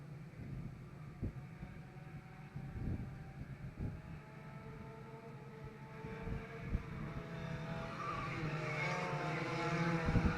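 Race cars in a qualifying heat of a crash-and-burn division at a speedway, their engines droning at a distance with repeated rising whines as they pass, building louder toward the end.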